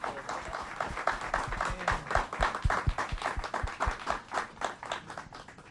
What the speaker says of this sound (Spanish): Un aplauso muy muy fuerte